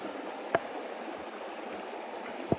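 A river flowing beneath a footbridge near Yaremche, a steady faint rushing of water throughout, with two brief sharp knocks standing out over the stream.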